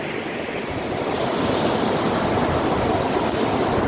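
River water at Kotiligala, Adilabad, rushes over rocks near a bridge, making a steady, loud, broadband roar that holds evenly throughout, with some wind noise on the microphone and no talking.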